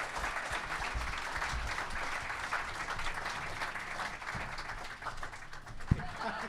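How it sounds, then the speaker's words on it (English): A debate audience gives a sustained, even round of applause for the speakers, a dense crowd-clapping texture holding steady throughout, close and continuous. "join me in applauding our speakers"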